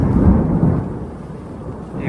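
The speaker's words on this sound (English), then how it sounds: "You can probably hear that thunder in the background." Thunder rumbles through a rainy morning at Dollywood theme park, a deep, loud, rolling boom that swells early and then fades into a low steady grumble, with no talking.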